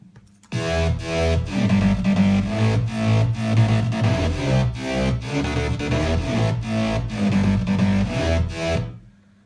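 A loud, gritty distorted bass line layered with a lighter synth sound in a produced electronic track, playing continuously with a steady driving rhythm and no talking.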